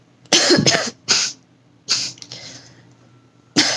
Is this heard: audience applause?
no